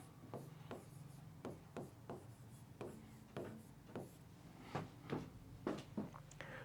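A pen writes on graph paper in a run of short, rhythmic scratching strokes, close and quiet, repeating at a steady pace with brief pauses between marks during a physics practical on a P-N junction diode.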